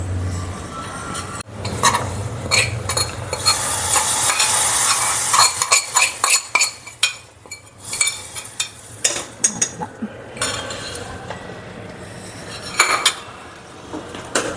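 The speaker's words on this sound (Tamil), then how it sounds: "போட்டுட்டு இதை அப்படியே நம்ம பாயசத்தில் கொட்டிட வேண்டியதுதான்." Hot moong dal and cardamom tempering sizzles and hisses loudly as it is poured into kheer, followed by clattering stirring with a metal spoon in a pot.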